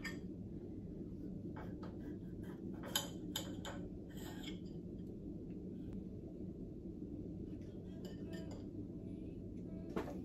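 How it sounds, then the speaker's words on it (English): A butter knife cuts cheese and tomato on a plate in a hotel room, giving scattered light clicks and scrapes of metal on crockery, close and soft over a steady low background hum. "I'm literally cutting cheese up with a butter knife"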